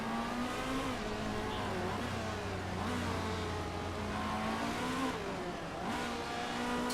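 Race cars circle a sunny Phoenix track in the Motorsport Manager racing game, with a steady engine drone and rising, revving pitch sweeps as cars pass, audible the whole time beneath faint voices.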